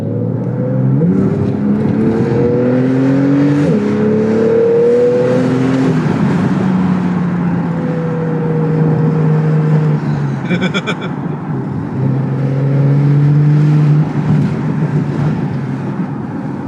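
A Porsche 991.2 GTS engine drones steadily up close in sport mode, its exhaust rising and falling in pitch as it accelerates and shifts through gears.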